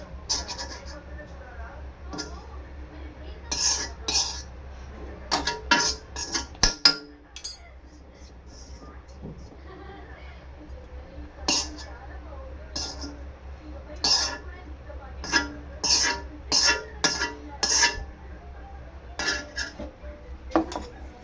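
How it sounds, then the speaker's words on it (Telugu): Ragi dosa batter, with fried green chillies added, is mixed in a bowl: a spoon clinks and scrapes against the dish in irregular bursts, with a quiet pause partway through and a low background hum. "మొత్తం అయితే కలిపేసాను"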